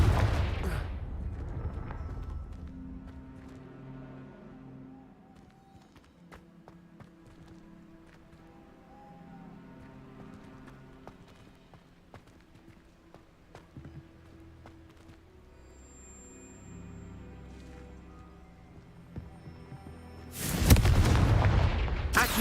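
Confringo blasting spell in Hogwarts Legacy: a long, quiet stretch of soft ambient tones and faint clicks, then one loud, sudden explosive burst near the very end.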